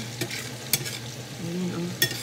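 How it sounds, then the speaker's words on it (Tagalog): Garlic frying in a pan, a steady close sizzle with a few sharp clinks of a utensil stirring against the pan, no voices. "Pa-brown-brown muna natin ang bawang."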